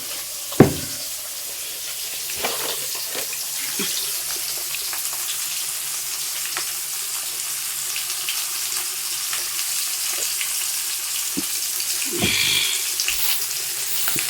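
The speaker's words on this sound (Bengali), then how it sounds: "এগুলো মাছ কড়াইয়ে দিয়ে দূরে আছি, তার কারণ হচ্ছে খুব তেল ছিটে আসে এগুলো মাছ থেকে" Fish fry in oil in a kadai-style wok with a continuous loud sizzle and hiss, a few sharp pops and splatters breaking through near the start and end.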